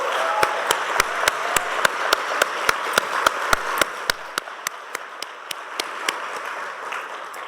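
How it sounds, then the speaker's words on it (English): Sparse applause after a lunch panel, with a handful of loud, distinct claps from one nearby person standing out over softer clapping from the wider room, then thinning out. "Please join me in another round of applause for this afternoon's speaker"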